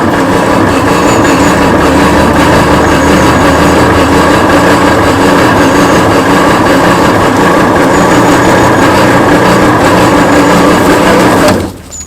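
A Commer Superpoise lorry's straight-six engine is turned over on the starter, giving a loud, steady mechanical churning drone that runs unbroken for about eleven seconds before cutting off abruptly.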